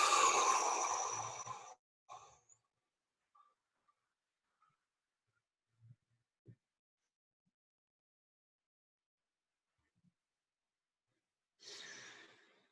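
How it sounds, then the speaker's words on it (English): A long, slow exhale during a breathing exercise sounds as a soft breathy rush at the start, followed by near silence broken by a few faint small noises and a second quiet breath near the end. "try a really, really long breath out"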